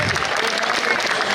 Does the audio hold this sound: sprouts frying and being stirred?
no